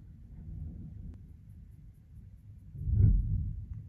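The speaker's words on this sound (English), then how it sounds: "Obviously, I would choose to film when there's a fucking thunderstorm." Low thunder rumbles during a thunderstorm heard from indoors, a soft distant roll that swells into a louder, deeper peak near the end, with no talking over it.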